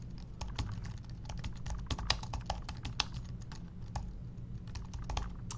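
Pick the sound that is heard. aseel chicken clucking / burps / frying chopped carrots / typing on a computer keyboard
typing on a computer keyboard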